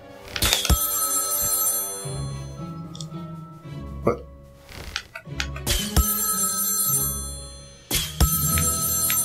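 A telephone in South Park: The Stick of Truth rings in several sharp bursts with pauses between them, under a voice that speaks briefly.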